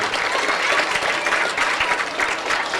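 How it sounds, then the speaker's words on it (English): A crowd at a Sunday evening traditional music session applauds the musicians, giving a dense, continuous wash of clapping close to the listener with no break and no speech. "all the musicians that are going to play for the rest of the evening deserve a big round of applause"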